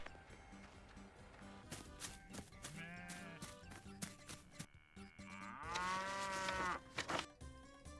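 Cattle mooing in a fantasy video game set in Varlamore, with several drawn-out, loud moos and bleat-like calls across the clip, the longest and strongest near the end.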